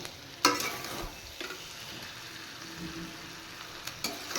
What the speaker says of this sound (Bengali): আর একটু হালকা ভেজে নেব